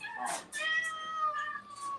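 Cat indoors at a flooded elephant sanctuary volunteer building, meowing in a couple of clear, drawn-out calls with harmonic wails, close and fairly loud against quiet background.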